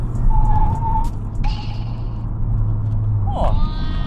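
A Honda Civic FE brakes hard after a 0-100 km/h sprint. Steady low road and engine rumble runs underneath, with brief high squeals and a rising chirp near the end.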